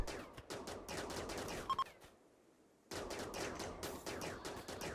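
Video game gunfire in Rimworld rattles in rapid bursts of automatic shots, stops for about a second of near silence, then resumes in dense volleys.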